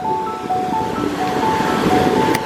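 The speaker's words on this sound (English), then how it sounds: "I don't know how to explain and show like how bad the waves are today and how windy it is." Strong surf and gusty wind at a beach with a red-flag riptide, a continuous roaring wash of waves mixed with wind buffeting the microphone, with a faint high whistle tone cutting through.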